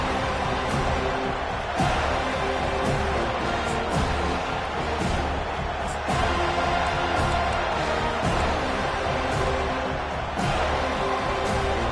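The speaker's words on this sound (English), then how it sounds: "This crowd bringing the energy and noise early." A college football stadium crowd at an Alabama at Florida State game sends up a loud, continuous roar with swelling cheers, filling the whole stretch without a break.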